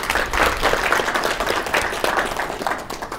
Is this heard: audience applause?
yes